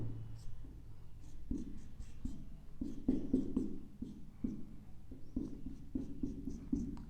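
Chalk or marker taps and scratches across a classroom board in quick, irregular strokes as a diagram of the digestive system is drawn, fairly close and quiet.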